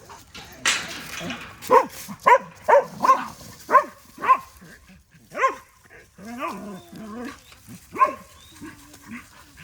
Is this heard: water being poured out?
no